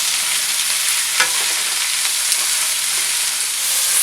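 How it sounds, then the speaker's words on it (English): Onions and peppers frying in a pan for sausage and peppers, stirred with a wooden spoon: a loud, dense, continuous sizzle with occasional faint scrapes, no talking. "with a wooden spoon, you're just going to kind of mix this around really good for about 5 minutes till it's nice and golden brown"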